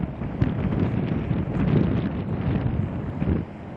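Cold wind buffets a Canon XA50 camcorder microphone at an Interstate 26 rest area in Kingsport, Tennessee, producing loud, low, gusty rumbling thumps that surge and fade unevenly, with no voices.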